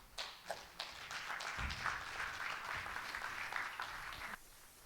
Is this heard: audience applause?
yes